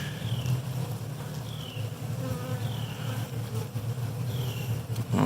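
Honey bees buzz around an opened Flow Hive, a dense steady hum close by, with individual bees whining past in brief pitch-sliding flybys.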